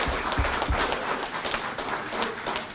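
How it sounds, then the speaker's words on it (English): An audience applauds for Joe Palm, committee man of the Mighty 26, at the Ben Stewart Boxing Academy dedication: a steady, dense wash of clapping that runs for the whole short stretch with a few sharper hits near the start. "Let's give him a big round of applause."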